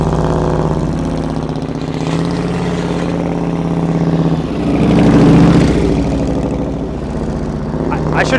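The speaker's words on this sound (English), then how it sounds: "Listen to his throttle." Motorcycle engine idling and blipping its throttle during slow-speed riding practice in a parking lot, a low steady engine hum with a brief louder rev in the middle, close by and without speech over it.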